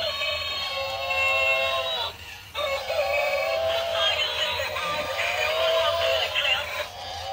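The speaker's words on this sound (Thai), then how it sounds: "ควาย" A long, drawn-out bellowing call from a toy buffalo, harmonic and electronic in tone, repeated with a short break, loud and close.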